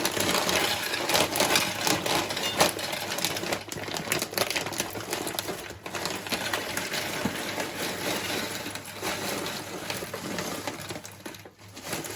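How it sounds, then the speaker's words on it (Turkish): Roasted in-shell peanuts pour into a bowl, a dense continuous rattle of shells clattering against each other and the container, close and loud for several seconds, with no talking. "Şöyle hemen bir kabada daha rahat görebilmeniz için boşaltayım."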